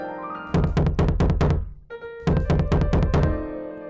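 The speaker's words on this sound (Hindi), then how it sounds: "थोड़ी देर के बाद रेड राइडिंग हुड ने नानी के घर का दरवाजा खटखटाया।" Two bursts of firm knocking on a wooden door in a children's story: a run of five raps, a short pause, then another run of about five raps, loud and close.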